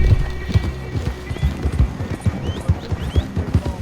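A horse in a Wild West setting clip-clops in a steady, close rhythm of hoof beats, with a couple of brief high whinnies rising above the hooves.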